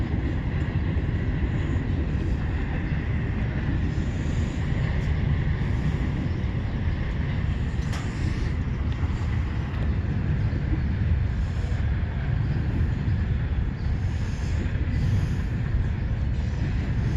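A CSX freight train passes in Fostoria, Ohio, a continuous loud low rumble of rolling wagons that holds steady throughout.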